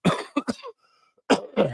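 Two short bursts of coughing, close and fairly loud, separated by a brief silence, with a throaty rasp to each cough.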